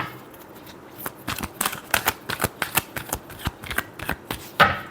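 Tarot cards are riffled in a final shuffle, giving a close series of quick crisp flutters and snaps in uneven bursts, ending with a sharper slap.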